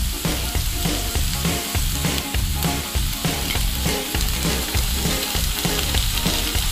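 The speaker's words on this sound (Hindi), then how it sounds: "पहले ये देखिए पैन का चिली सॉस डालेंगे।" Pasta sizzles and fries loudly in a pan as chili sauce goes in, a dense, continuous crackle with rhythmic stirring and scraping throughout, close up and with no talking.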